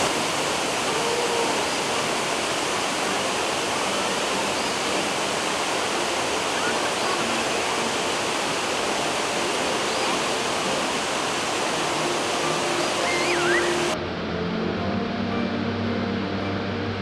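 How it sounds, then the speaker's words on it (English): Cummins Falls waterfall in Tennessee roars as a dense, steady wash of falling water, loud and close, unbroken for the whole stretch before the level drops suddenly near the end. "Behind the waterfall."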